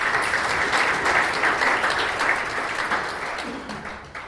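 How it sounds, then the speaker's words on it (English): A conference audience applauds as the South African Health Informatics Association presenter walks up to speak, steady dense clapping holding for about four seconds before tapering slightly at the end. "Please give him a round of applause as he comes up."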